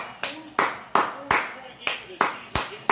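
A steady run of eight crisp hand claps roughly every 0.35 seconds, close to the microphone and fairly loud, applauding a basketball team after a Clippers–Mavericks game.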